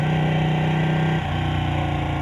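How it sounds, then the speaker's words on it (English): A 2018 Ducati Panigale 899 motorcycle engine runs close and loud, a steady throbbing idle that drops to a slightly lower, rougher note midway through the short stretch. "The bike sounds really good already."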